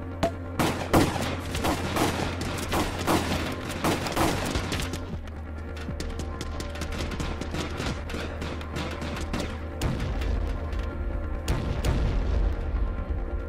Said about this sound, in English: Alright, I'm gonna fire then.